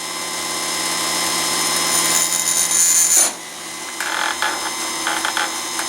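Chainsaw sharpener grinding chain teeth with a steady high whine that cuts off abruptly, followed by a lower, quieter stretch with a few short grinding bursts.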